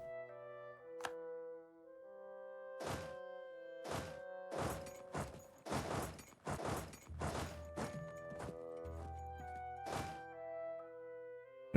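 Europa Universalis IV battle effects play out as a series of heavy thunks, clashes and impacts in irregular bursts over a quiet musical bed, growing dense in the middle.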